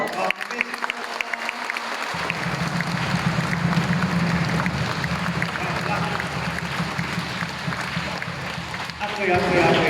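Applause for the parents fills a confirmation ceremony, steady clapping from a gathered crowd that swells after a couple of seconds and holds, with voices murmuring through it.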